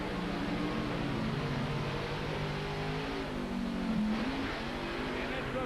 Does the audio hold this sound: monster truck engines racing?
yes